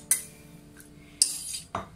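Utensils mix a tri-color Italian pasta salad with lettuce in a bowl, giving a few close, sharp clinks and short scrapes spaced apart, with no voices.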